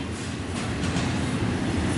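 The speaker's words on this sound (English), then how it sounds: "I'm trying to record a train in peace!" A train passes close by with a steady rumble and rhythmic clatter of wheels on rails, loud and continuous for the whole stretch with no voices over it.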